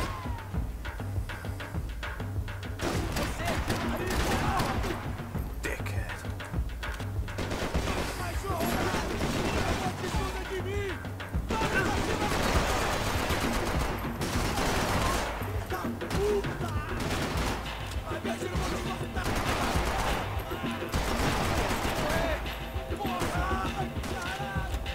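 Sustained heavy gunfire in a Max Payne 3 firefight, dense rapid shots and bursts hammering almost continuously, loud and close, with a voice occasionally cutting in over the shooting.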